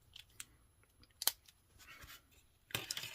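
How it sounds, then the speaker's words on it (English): Scissors snip through quilt fabric for a jelly roll table runner, a few short crisp cuts up close, quiet and separated by pauses, ending in a slightly longer burst of cutting, with no speech. "And then I'm going to take my scissors"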